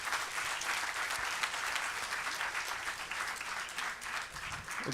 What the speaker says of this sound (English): And a big round of applause for yourselves.